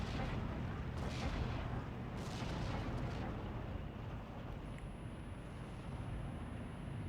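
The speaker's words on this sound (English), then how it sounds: "We could see a bombing run coming in." Distant booming blasts and a dense roar of explosions fill a bombing run in the wartime strategy game Steel Division, a sustained faint rumbling wash with a few sharper bursts.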